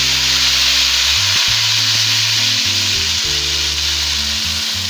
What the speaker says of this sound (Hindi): ये लहसुन अदरक फ्राई हो गया, अब मैं इसमें पेस्ट शामिल कर रही हूँ।